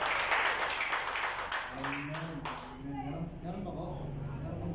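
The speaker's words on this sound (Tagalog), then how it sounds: "Pwede po yung malakas na palakpak po sa ating mga." Church congregation applauding, a burst of clapping for the first few seconds that fades out as a voice continues speaking over it.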